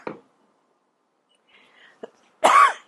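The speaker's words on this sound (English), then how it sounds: "talking and coughing into your mic" A single harsh cough bursts out near the end, loud and close, following a short cough at the start and faint murmuring in between.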